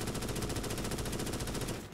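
A gun firing in the video game Starship Troopers: Extermination, one continuous loud automatic burst of rapid, evenly spaced shots filling the whole moment before cutting off at the end.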